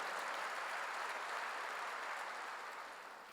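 A church congregation applauds during a sermon, a steady, slightly distant wash of many hands clapping that gradually fades toward the end, with no speech over it.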